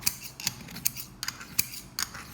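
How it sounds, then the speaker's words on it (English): Scissors blades scraped back and forth along a screwdriver shaft to sharpen them, giving sharp metallic rasps at a steady rhythm of roughly two or three strokes per second, close and clear with no talk. "slide the scissors back and forth along the screwdriver"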